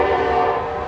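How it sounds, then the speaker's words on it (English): A train passes close by, its horn sounding loud and steady with a rich tonal blare that fades slightly at the end. "Sounds like the train is just going by."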